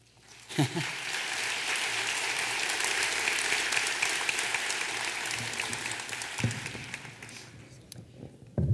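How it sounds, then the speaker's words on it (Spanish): Sustained audience applause in a hall, a dense even roar of clapping that swells and fades over several seconds, with a few thumps and a voice breaking through near the end. "Brian, por favor, un aplauso."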